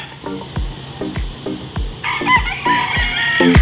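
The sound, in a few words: roosters crowing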